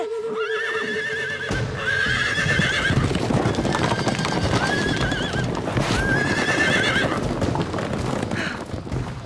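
A wild horse whinnies loudly several times in an animated scene, its neighs rising and falling over a busy stretch of hooves clip-clopping close by.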